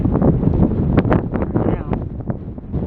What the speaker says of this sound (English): That wind feels good.